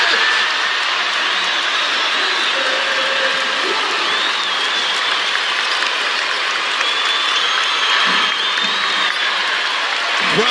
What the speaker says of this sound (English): Crowd coming alive at Gainbridge Fieldhouse.